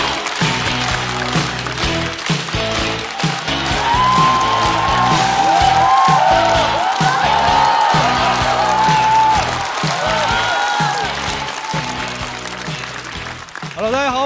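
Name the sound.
audience applause welcoming a comedian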